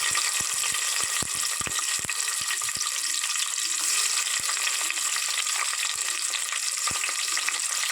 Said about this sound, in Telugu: 2 చెక్క పలుకులు, 2 లవంగం పలుకులు, 4 జీడిపప్పులు, 4 బిర్యానీ ఆకులు వేసుకొని వేయించుకోవాలి.